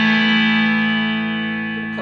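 An electric guitar chord played through a BOSS IR-2 amp modeling unit rings out and slowly decays, drenched in deep reverb that leaves a long, shimmering tail.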